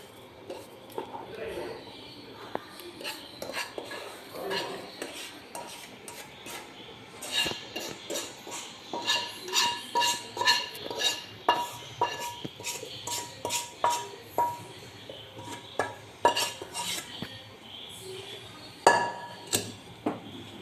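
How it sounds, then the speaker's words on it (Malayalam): Roasted semolina (rava) is stirred into boiling water in a pan for kesari, a spoon scraping and clinking against the metal in a steady, uneven rhythm that quickens midway, with occasional talk. "റവയിട്ട് ഇളക്കി വെള്ളം മുഴുവൻ പറ്റി കഴിയുന്നിടം വരെ നമ്മളിത് ഇളക്കിക്കൊണ്ടിരിക്കണം"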